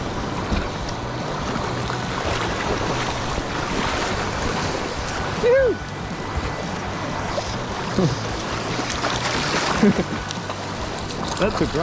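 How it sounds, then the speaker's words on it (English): Wind and waves out at sea while sea trout fishing on a bright, breezy afternoon: a steady broadband wash of surf and wind buffeting, continuous and fairly loud throughout, with no clear talk. "It's a little bit more windy"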